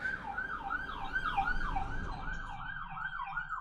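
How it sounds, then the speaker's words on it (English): A police car siren wails in a steady rising and falling cycle, heard through a window from the street, moderately distant and fading slightly toward the end, with no talk. "a police car just went around past the window."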